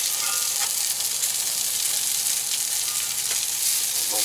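Striped bass fillet frying in a pan at a van camp by the Cape Cod Canal, giving a steady, close sizzle with a few soft crackles and scrapes throughout.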